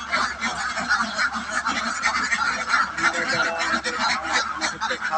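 Ducks on a duck farm quack and honk continuously as a dense, overlapping flock chorus, close and loud throughout, with no talk over it.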